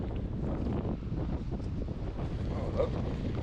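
Strong wind roars and buffets the microphone on a seaside promenade beside a foamy sea, a constant loud low rumble with gusty swells and a faint wash of surf beneath.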